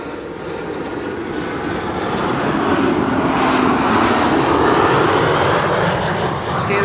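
An airliner arriving from Milan at Schiphol passes close, its jet engines a continuous broad roar that swells to a peak around the fourth and fifth seconds before easing slightly.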